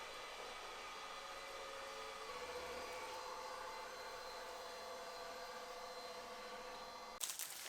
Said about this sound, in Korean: 로봇 청소기 돌아가는 동안 밥을 먹어볼게요.